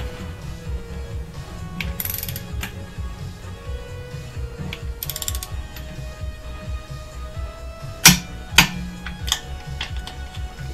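A ratchet wrench clicks in quick bursts while torquing the bolts on a Subaru Outback engine being reassembled after a broken timing belt, with a couple of sharp metallic knocks near the end over a low shop hum.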